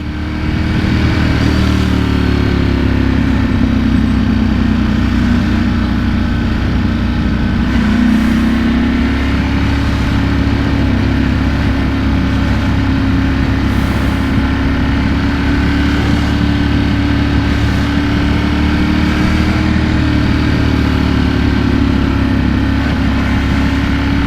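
Motorcycle engine running steadily while riding, a loud continuous drone with slowly wavering pitch and wind rush throughout, no voices.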